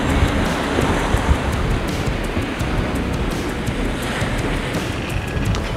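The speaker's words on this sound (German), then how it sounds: "Die See nimmt immer mehr zu." Rough sea waves and strong wind on the Kattegat while under sail, a loud continuous rush of water and gusting wind noise with no break.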